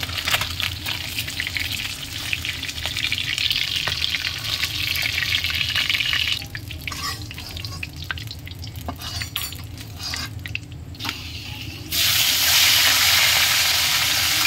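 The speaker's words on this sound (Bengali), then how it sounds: "এরকম করে সব চিংড়ি মাছগুলো ভেজে নেব" Fish and prawns fry in oil with a loud, bubbling sizzle that stirring and occasional pan clatter break up, dropping briefly midway and then surging back to a bright hiss near the end; no speech.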